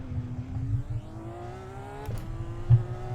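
IndyCar engine in the iRacing simulator at Gateway held near redline after a spin, a steady whining drone slowly climbing in pitch, moderately loud, with a brief thump near the end and no talk.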